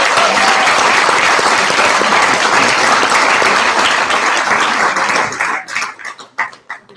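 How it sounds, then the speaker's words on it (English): A crowd at final team presentations claps loudly for a team coming up to pitch, dense applause that thins into a few scattered claps and fades near the end. "big applause for them already"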